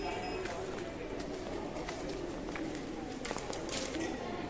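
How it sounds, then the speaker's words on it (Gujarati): Pigeons coo repeatedly in the open grounds of a temple with planted trees, soft and steady against a busy background of people talking and moving about nearby. "અહીંયા મોટી સંખ્યામાં કબૂતરો સણતા હોય છે"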